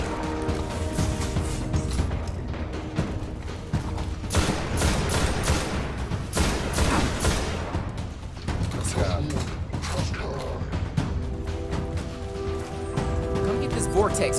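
Gunfire in Destiny on PS4 during a boss fight: repeated sharp shots in rapid clusters over steady mechanical game noise, loud and close, with a voice talking over parts of it.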